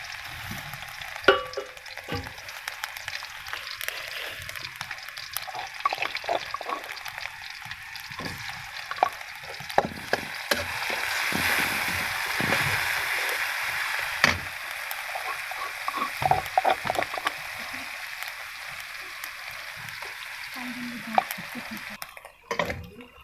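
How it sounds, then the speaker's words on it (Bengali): Onion paste spice mix fries in oil in a wok, a hissing sizzle broken by repeated clattering stirs and scrapes of a spoon against the pan, close and uneven in rhythm. "মশলাটা ভাজাভাজি করে নিচ্ছি"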